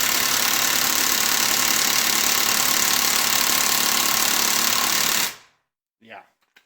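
A Fakita-brand knockoff of a Makita impact driver hammers at a stubborn bolt, sending out a loud, continuous rapid rattling that runs for about five seconds and then cuts off. A brief quiet voice follows.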